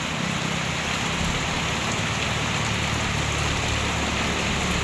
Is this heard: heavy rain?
yes